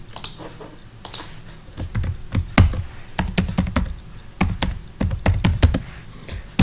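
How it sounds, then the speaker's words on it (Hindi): Fingers tapping out words on a computer keyboard in MS Word, a quick irregular run of crisp key clicks in short bursts with brief pauses, close and clear, no talking. "तो यहाँ पर क्या हमने टाइप करना है,"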